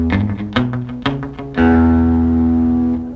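Palm-muted bass line on a Fender Telecaster electric guitar: a few short damped plucked notes, then a held, ringing note that sustains and fades, close and clear with no talking.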